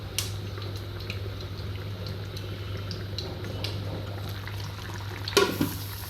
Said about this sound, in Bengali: সবগুলো ভেজে রাখা চিকেনগুলি দেওয়ার পরে সামান্য কিছুটা পানি দিয়ে দিয়েছি এবং কম আঁচে চিকেনগুলো রান্না করব।